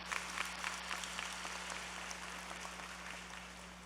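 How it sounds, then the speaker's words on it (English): Audience applause at a high school graduation ceremony, a faint, steady patter of many hands heard from a distance, with a low hum running underneath. "Give them a round of applause,"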